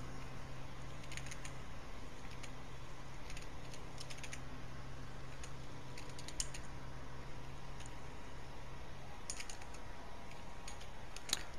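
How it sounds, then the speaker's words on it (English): Faint, scattered clicks of typing on a computer keyboard tap out in short irregular clusters over a steady low hum, with no talking. "Time to do some typing"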